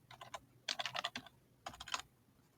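Quiet typing on a computer keyboard in three separate bursts of rapid clicks with short pauses between them, close up and with no talking.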